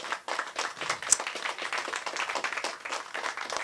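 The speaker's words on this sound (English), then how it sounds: "Give them a round of applause" Audience applause at a live Science on Tap event at Radio Artifact, dense clapping throughout with scattered sharper claps, moderately loud and steady.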